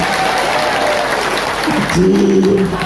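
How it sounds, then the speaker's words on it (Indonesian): Audience at a women's religious gathering in Pangalengan applauding, a loud dense clapping wash that fades near the end as a voice begins speaking over it. "Tepuk tangan untuk Anda."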